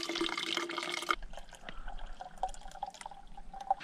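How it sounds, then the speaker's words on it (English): Water running from a filter bag into a water bottle on a remote backpacking and trout-fishing trip: a brief steady pour, then close trickling and scattered drips. "Right, I'm gonna fill my water bottle."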